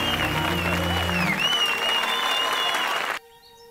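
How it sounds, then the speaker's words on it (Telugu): College students applauding a first-place winner at a ceremony, with a dense, loud burst of crowd clapping that lasts about three seconds and then cuts off. "ఇంకా గట్టిగా చప్పట్లు కొట్టి"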